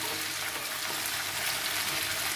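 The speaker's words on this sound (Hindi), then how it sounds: "ये जो सहजन की फलियाँ हैं ये मैं डाल दूँगी। इसको भी थोड़ी देर तक इसी तरह से हिलाकर फ्राई करना है।" Drumstick (sahjan) pods fry in hot oil for a sabzi while being stirred, a steady bright sizzle with faint clattering stirs, close and continuous, with no talking.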